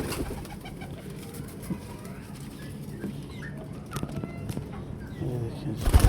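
Young pigeons of the Hino breed coo softly at close range amid rustling and fluttering in a pigeon house, with a few scattered thumps and brief movement noises.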